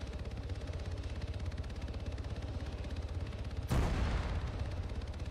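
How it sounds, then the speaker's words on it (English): Artillery fire called in during an Arma 3 game session, a single heavy boom bursting over a steady rumbling mechanical background, no voices. "So we'll stop him, and then we'll get the artillery to do it."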